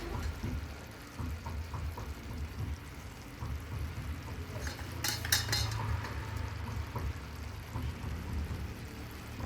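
A spoon clinks and scrapes against a metal pan as turmeric, red chilli and other spices are stirred into a colourful vegetable and paneer bhaji, with a faint sizzle underneath and a brief cluster of sharper metallic taps midway.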